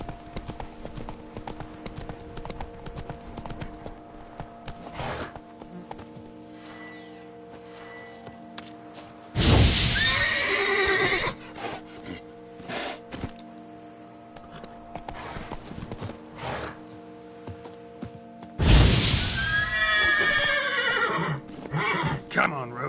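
Horse Roach in the video game Witcher 3, hooves clopping steadily at a walk with two loud whinnies about ten seconds apart, amid game ambience and faint speech.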